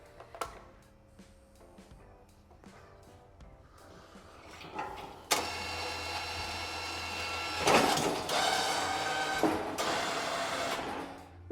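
An electric winch on a Honda TRX 520 ATV fitted with a snow plow starts up partway through and runs as a steady, fairly loud motor whir. It surges briefly stronger midway through the run.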